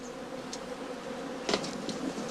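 Honey bees buzz steadily around straw skeps, a soft continuous hum with a few louder passes of individual bees close by.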